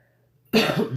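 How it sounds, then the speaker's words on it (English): A single short cough bursts out after near silence, close and fairly loud. "don't mind the cough"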